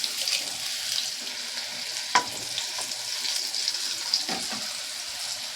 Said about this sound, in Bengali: তেলে একটু ভালো করে ভেজে নেব